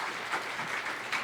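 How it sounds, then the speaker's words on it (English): A short, faint patter of applause from an audience greets a speaker at an entrepreneurship event. "Let's give her a round of applause."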